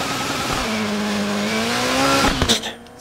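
Subaru Impreza rally car in DiRT 4 at a Michigan rally, its engine holding a loud steady drone that climbs in pitch before abrupt gear shifts and lifts off the throttle near the end.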